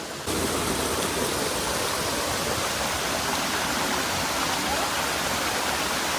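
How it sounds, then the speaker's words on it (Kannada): Steady rushing of a small waterfall stream at Leki Falls in dense forest, a continuous broadband wash of flowing water close by, with no voices. "ಈ ಥರ ಒಂದು ಸಣ್ಣದೊಂದು ನೀರಿನ ಹರಿವು ಕಾಣಿಸ್ತಾ ಉಂಟು. ಮೋಸ್ಟ್ಲಿ ಇದೇ ಫಾಲ್ಸ್ ಅನಿಸ್ತದೆ"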